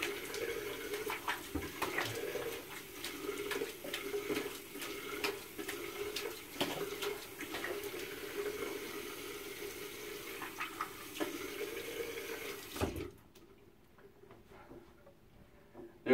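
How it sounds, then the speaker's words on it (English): Tap water runs steadily into a bathroom sink while someone rinses off after a wet shave, a constant hiss with small splashes that cuts off abruptly near the end, leaving quiet. "I'll go ahead and rinse off and prepare for the second pass."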